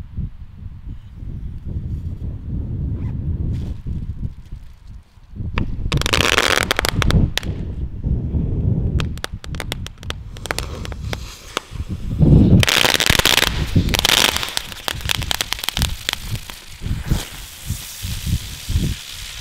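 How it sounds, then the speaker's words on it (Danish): Fireworks set off inside a jacket pocket on New Year's: a low rumble gives way to loud, dense crackling and rapid popping bursts that keep going for many seconds, close and harsh. "hvor hurtigt det egentlig går, hvis der rører en glød ned og antænder noget fyrværkeri i lommen"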